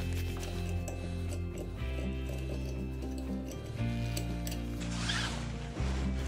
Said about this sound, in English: Rotate the secondary clutch by hand a few times to get the clutch to close and the belt to seat